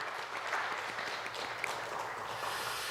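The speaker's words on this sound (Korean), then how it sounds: "자리에 없지만은 우리 박수로 한번 축복하도록 하겠습니다." Church congregation clapping during a Sunday worship service, a steady, moderately faint wash of applause lasting a few seconds with no talking over it.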